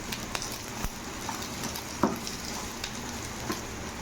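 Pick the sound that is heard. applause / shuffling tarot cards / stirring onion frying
stirring onion frying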